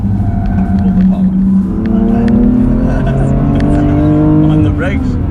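F97 BMW X3 M Competition powering out of a corner on the Kyalami Circuit, South Africa, its engine note climbing in pitch through rising sweeps, loud and close from inside the car.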